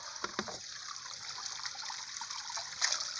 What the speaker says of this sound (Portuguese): Uma cachoeira.